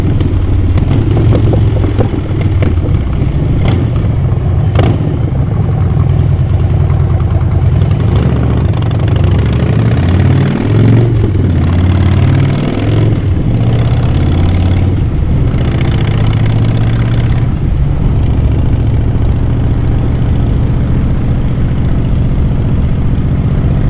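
Motorcycle cruising down a freeway with a windscreen fitted, its steady engine drone and wind rush loud and continuous throughout, with rising and falling engine tones as it rides along.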